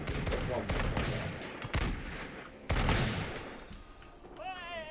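Gunfire in the battle game Totally Accurate Battle Simulator, Renaissance era: a few sharp, loud shots and crackling bursts close by, followed by a rising whistling tone near the end, with no talking.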